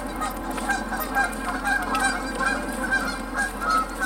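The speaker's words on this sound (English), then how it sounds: "They're getting loud." A flock of geese honks repeatedly at a creek, a dense, overlapping chorus of calls at moderate distance over a steady low background rumble.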